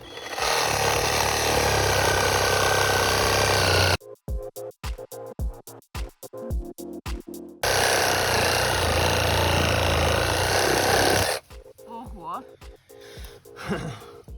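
A cordless LEADER reciprocating saw cuts through a tree stump outdoors with a loud, continuous buzzing rasp in two long bursts, separated by stretches of short choppy strokes and people talking.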